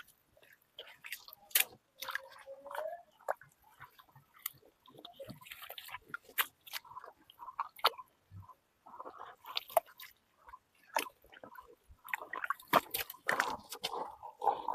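Hands scoop and squish wet mud away from the sides of an old lotus plant's tuber pot, producing soft irregular squelches and drips, fairly close and quiet.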